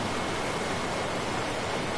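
A waterfall in a video game pours as a loud, dense, steady rush of broadband noise filling the whole moment, with no voices.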